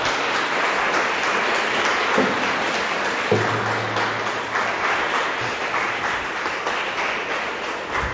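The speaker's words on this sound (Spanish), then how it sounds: "Vamos a darle un fuerte aplauso a Jesucristo" Church congregation applauding Jesus Christ during a Spanish-language Bible teaching service, a steady wash of clapping filling the room for several seconds, with a low tone entering midway.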